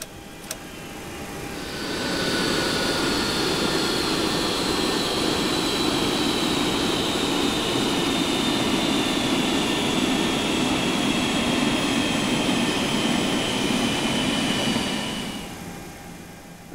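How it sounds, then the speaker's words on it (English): Simulated twin jet engines of a FlyJSim 732 Twinjet in X-Plane 11 whine and roar steadily, a high tone slowly falling in pitch as the engines shut down, then the noise fades out near the end. "Seatbelt signs off, and now let's shut down the engines."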